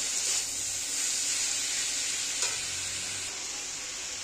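Half a spoon of cumin powder is stirred in hot oil in a frying pan, making a soft, steady sizzle and hiss. One brief scrape of the spoon sounds midway through.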